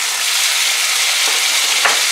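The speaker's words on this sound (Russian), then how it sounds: "Вот только включила, и уже можно жарить." Food sizzles and fries steadily in a pan on a Maunfeld 594-FL2-vk induction hob, a dense continuous crackle heard up close, with a brief stir or clink near the end and no talking.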